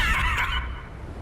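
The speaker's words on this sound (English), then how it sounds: "Here we ride wild horses." A horse in the video game The Crew Motorfest whinnies with a high, wavering neigh that cuts off abruptly, leaving a low rumbling background.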